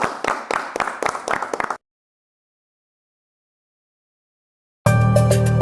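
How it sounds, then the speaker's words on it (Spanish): Applause for the government at a Colombian political speech, a short run of dense, sharp clapping that stops abruptly after about two seconds, followed by silence and then unrelated music. "un fuerte aplauso para nuestro gobierno"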